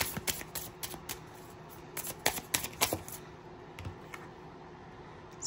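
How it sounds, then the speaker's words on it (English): Playing cards shuffled during a tarot-style card reading, a quick run of close, crisp riffling clicks and flutters in bursts, fairly quiet and alone. "I started shuffling."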